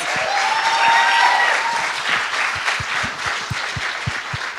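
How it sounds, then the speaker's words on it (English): An audience at the SUNY Oswego 2013 Ozzie Awards applauds winner Pete Sosha, a dense wash of clapping with a few whoops early on, thinning toward the end into more separate, distinct claps. "so give him a round of applause"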